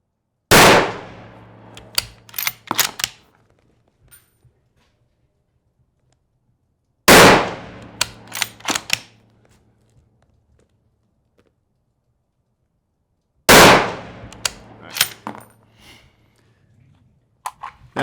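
Rifle gunshots ring out during shooting drills outdoors, three loud bursts spaced several seconds apart, each a sharp crack followed by a rapid string of shots and a fading echo.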